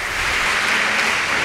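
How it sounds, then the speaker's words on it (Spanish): Audience applause at a church sermon, a brief burst of dense clapping from a crowd, loud and steady without speech. "Un aplauso para mi modelo tan bueno."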